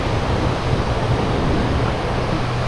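Rough surf breaking along a Jacksonville, Florida beach, a continuous broad roar of churning waves with wind noise on the microphone, steady and close throughout, no voices.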